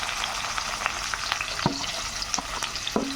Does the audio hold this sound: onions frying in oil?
yes